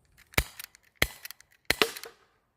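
Three sharp, loud shots from a KWC gas airsoft pistol fired outdoors at a bottle about ten metres away, spaced roughly evenly, each a crisp crack followed by a short rattling tail.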